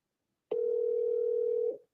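A single steady telephone tone, loud and clean, sounds alone for about a second before cutting off, the kind heard just before a call goes to voicemail.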